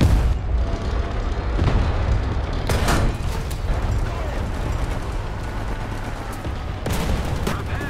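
Abrams tank cannon firing an M900 shell in a video game, a loud dense boom with a short blast near the three-second mark and another near seven seconds, over constant heavy engine rumble and battle noise.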